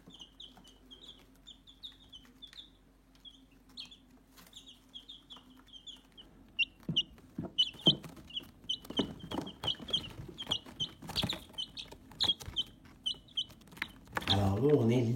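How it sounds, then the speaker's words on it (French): Ten-day-old chicks peep repeatedly in a brooder bin, their high chirps close and steady throughout, joined by louder rustling and scratching in the second half and a burst of handling noise at the end. "Alors là, on est littéralement dans le bac avec les poussins."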